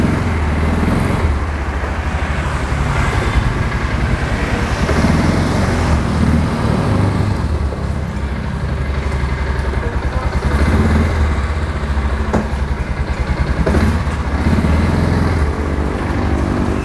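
A Kazuma 500cc 4x4 ATV is driven forward, its engine a loud, steady throbbing rumble close by, lasting throughout with little change in pitch.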